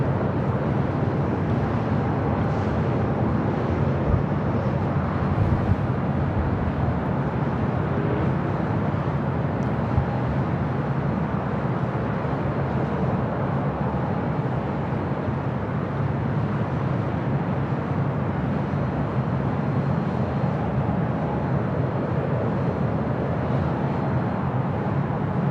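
A Hawaiian Airlines Boeing Dreamliner jet at LAX gives a steady, broad engine roar that holds at an even loudness for the whole stretch, with no voices over it.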